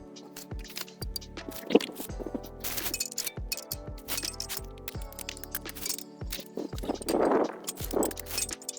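A spanner and socket work a 14 mm bolt loose on a Royal Enfield Interceptor 650 motorcycle during an oil change, giving quiet scattered metallic clinks, ratcheting clicks and light tool taps, some close and sharp.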